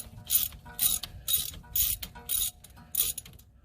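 A ratchet with a T30 bit loosens the rear brake caliper bolts on a 2016 Acura TLX: six quick bursts of close metallic clicking separated by short pauses.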